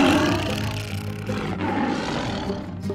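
Cartoon lions roar at a zoo, a loud continuous layered growling that fills the whole clip without any talk.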